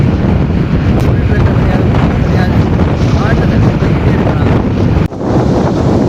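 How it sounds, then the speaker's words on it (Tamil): Strong sea wind on the road to Dhanushkodi roars loudly and constantly against the microphone, with a faint wash of waves beneath and a brief dip near the end. "காற்று பாருங்கள் எப்படி அடிக்குது பாருங்கள்"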